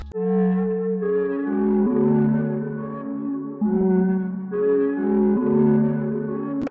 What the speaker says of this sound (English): It's the Butterfly Paralyzed preset from one of Hayes' banks